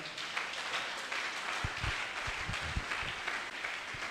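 A church congregation applauds together, a steady wash of many hands clapping at a moderate distance, with a few louder thumps standing out near the end.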